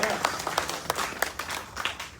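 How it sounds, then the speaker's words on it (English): An audience breaks into a short round of applause, with quick, uneven claps filling the room and a voice talking over them. "Give us a round of applause."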